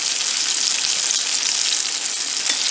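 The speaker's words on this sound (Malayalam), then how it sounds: "ഇത് നന്നായി ഫ്രൈ ആയി വരട്ടെ." Vegetables frying in a pan for a Kerala vegetarian lunch give off a steady, loud, close hiss of sizzling oil, continuous and even, with faint clicks of stirring and no voices.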